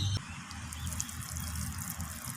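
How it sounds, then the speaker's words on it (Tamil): Water trickles and drips softly onto freshly sown broad bean seeds covered with light soil, a faint, steady splashing close by with no talk. "இப்போ இதுக்கு நம்ம தண்ணி விட்டுக்கலாம்."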